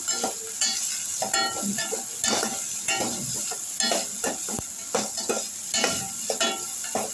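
Onions sautéed and stirred in a pan for a tomato rasam, a steady sizzle broken by repeated scraping strokes of the spoon, close and moderately loud with no talking.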